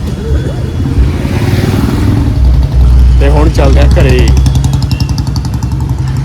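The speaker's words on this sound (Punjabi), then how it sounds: "ਫਿਰ ਤੂੰ ਹੀ ਚਲਾਏਗਾ ਮੋਟਰਸਾਈਕਲ ਠੀਕ ਹੈ" A motorcycle engine idles and revs loudly close by, a rough rumbling drone running throughout while someone speaks over it.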